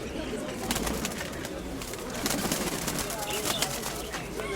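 Pigeons cooing among birds at an outdoor bird fair, a steady close chorus of coos and chirps with wing flutters, set against a busy crowded background and nearby voices.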